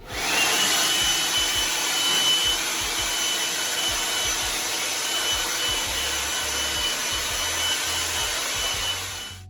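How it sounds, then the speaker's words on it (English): A loud, steady garden blower drying a 2006 FPV GT car roars continuously with a broad airy rush, holding nearly constant level throughout. "This is just a garden blower that I have. So it is quite loud."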